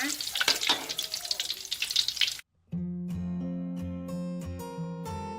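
Tilapia frying in hot oil until golden and crispy: a dense crackling sizzle for about two seconds, then a short gap, followed by tonal background music with no frying noise.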